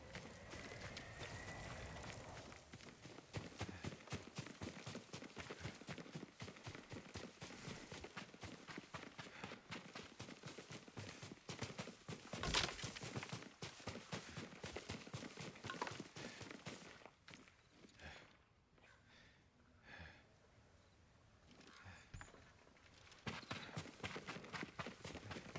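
Horse hooves clip-clop in Ghost of Tsushima, a steady rhythmic trot that runs through most of the stretch under game ambience, softening briefly midway before picking up again.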